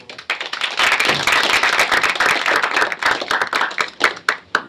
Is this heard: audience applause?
yes